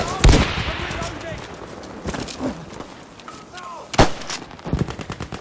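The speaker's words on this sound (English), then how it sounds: "Look, fire on that gun." Gunfire in Battlefield 5 during a multiplayer military operation: loud sharp shots and bursts spread across the clip, some near and some more distant, with voices talking over the action.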